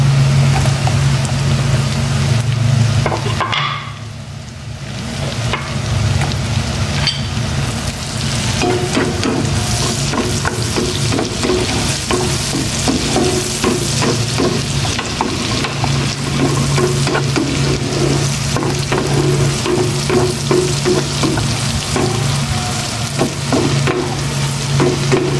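Onions fry with shrimp and tofu in a pan, making a loud continuous sizzle with repeated stirring scrapes. A brief dip comes early on, then the frying carries on evenly.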